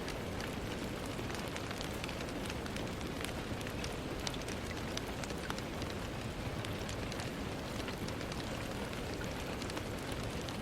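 Steady rain pouring down on a rainy night, dense and continuous hiss with scattered drop patter throughout, close and even with no voices.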